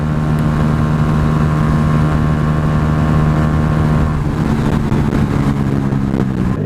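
A Yamaha YZF-R125 motorcycle held at full throttle gives a loud, steady, high-pitched engine drone that holds one note, heard continuously up close from the rider's position with no talking.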